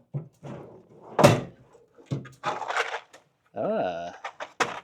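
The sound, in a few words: opening a compartment door on a retired ambulance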